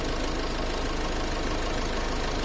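Ford Figo Aspire diesel engine idling, a steady broadband rumble with a low-pitched throb that holds constant throughout, moderately loud and without talk.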